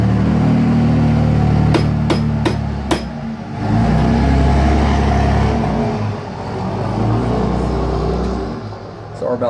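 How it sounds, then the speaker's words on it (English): A diesel truck passes nearby as a heavy, low rumble that swells and fades over several seconds. A few sharp metallic taps ring out early on. "Sorry about that. Diesel truck."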